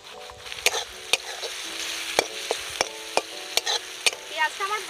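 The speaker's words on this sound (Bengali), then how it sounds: "পেঁয়াজটা আমার ভাজা হয়ে গেছে" Sliced onions sizzle in hot oil in a pan for a village-style Kadaknath black chicken curry, a soft steady frying hiss broken by sharp, regular clinks of a spoon stirring against the metal.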